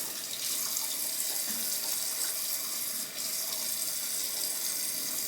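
Warm water runs steadily from a tap into a sink before a shave, a constant close hiss and splatter with no voices.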